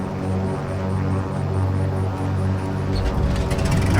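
A Cessna 414 Chancellor propeller engine starts in a flight simulator, a loud steady droning whir whose pitch and texture shift in the last second as the engine catches.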